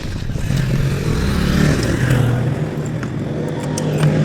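Kevin's motorcycle, carrying three riders, runs with a steady engine drone amid Sunday traffic, close and fairly loud, with a slight rise in revs partway through and no talk over it.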